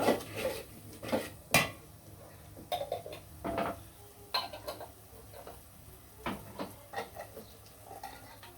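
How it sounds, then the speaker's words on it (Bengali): Spice masala being stirred in a pot for a two-kilogram mutton curry, with a spoon knocking and scraping against the metal in scattered close clatters and brief pauses. "লাড়াচাড়া দিয়ে মশলাটা কষিয়ে নিব"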